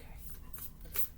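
Thick, good-quality tarot cards are shuffled by hand, giving a quiet, close, soft papery riffling with one brief louder flutter near the end.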